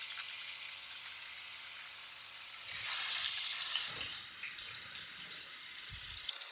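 Kofta sizzles and fries steadily in a hot pan, a continuous bright crackle that swells slightly midway, with a few soft low knocks from handling in the kitchen.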